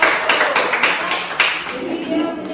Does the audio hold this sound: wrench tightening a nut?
no